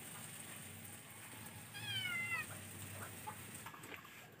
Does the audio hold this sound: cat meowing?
yes